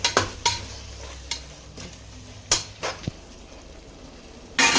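Soaked meal maker (soya chunks) being mixed in water in a pot, giving several separate sharp scrapes and clinks of a spoon against the vessel with quiet pauses between, close by and without speech.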